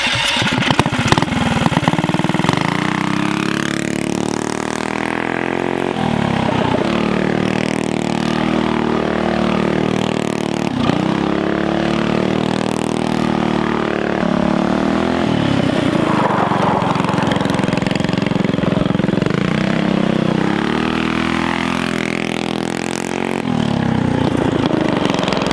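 A small engine vehicle fitted with a Juggernaut torque converter launches several times, its engine revving loudly up and down close by, with no talking.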